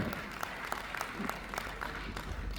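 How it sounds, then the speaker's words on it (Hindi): A crowd claps steadily, a dense patter of many hands at an even, moderate level throughout, with no voices. "तो एक बार जोरदार तालियां"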